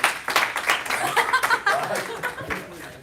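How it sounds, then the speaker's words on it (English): Audience members at a seminar clap to welcome a speaker, with uneven, fairly sparse claps and some chuckling and voices mixed in. "So let's give him a round of applause."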